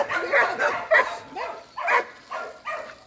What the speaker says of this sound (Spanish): ¡Ay, un perrito chiquito, Dina!